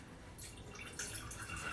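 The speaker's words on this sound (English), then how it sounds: "But you just pour off as much as you can." Buttermilk is poured off freshly churned homemade butter, giving a steady close liquid trickle and dripping that carries on through the whole stretch, with no talking.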